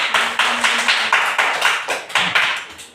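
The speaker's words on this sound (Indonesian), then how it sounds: "beri tepuk tangan untuk kelompok 2" A classroom of students claps for a presenting group, a fairly close group clapping in a steady patterned rhythm of repeated accented bursts, with a faint voice in the background.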